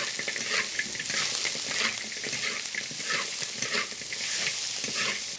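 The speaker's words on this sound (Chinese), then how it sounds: "给它炒出红油来" Pork ribs stir-fried with bean paste in a hot wok: rhythmic scraping stirs repeat over a continuous bright sizzle, close and fairly loud throughout.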